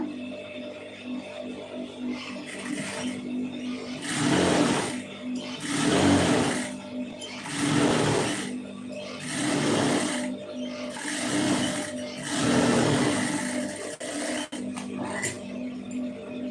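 A sewing machine runs a blouse through in a series of stitching bursts, about six runs with short pauses between them, close and steady.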